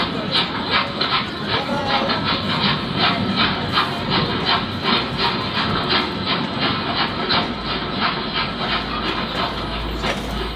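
A train rolling along rails with a steady rumble and a regular clickety-clack rhythm, fairly loud and close, under a constant hiss.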